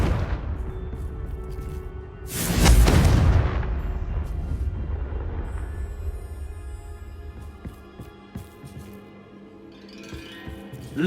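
Confringo blasting spell in Hogwarts Legacy going off as a loud booming explosion, a sharp burst followed by a long rumbling decay with scattered debris-like clatter and a faint fantasy music bed underneath.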